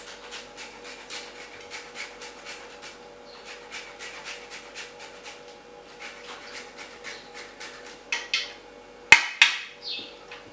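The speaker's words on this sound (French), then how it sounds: "nako râper noix de muscade na kati" A nutmeg being grated against a knife blade, a steady rhythmic rasping of quick repeated strokes, close and fairly quiet, followed by a few sharper knocks and clatters near the end.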